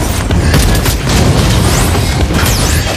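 Dense, loud booming blasts and rapid crackling bursts fill the mix continuously, a chaotic barrage of explosions from a Mobile Legends: Bang Bang battle.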